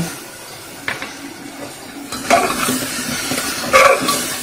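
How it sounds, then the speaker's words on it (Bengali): Spice masala with turmeric being sautéed in a pan, a soft steady sizzle with occasional metallic scrapes and clinks of a stirring utensil, close by with no talking. "মশলাটাকে একটু কষিয়ে নেব"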